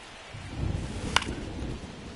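Steady rain noise falls through a ballpark scene in MLB The Show 2025, a continuous soft hiss with one brief sharp click partway through, no talking.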